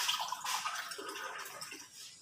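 Water pours and splashes into a blender jar over chopped ginger and other ingredients for a rendang paste, a short close trickling rush with no voices.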